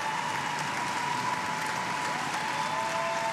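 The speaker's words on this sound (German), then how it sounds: "Ein sehr großer, verdienter Applaus." Loud, steady applause from a large audience at a televised singing competition semi-final, after a band performance, sustained dense clapping throughout with a faint tonal note underneath.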